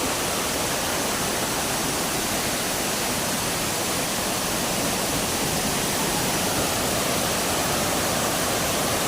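Bantakay Falls sends up a steady, dense roar of falling water that fills the scene evenly from start to finish, with no voices over it.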